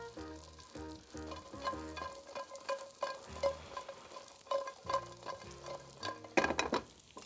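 Bread croutons frying in oil in a pan, a soft steady sizzle broken by repeated scraping and stirring strokes of a spoon, close up with no voices.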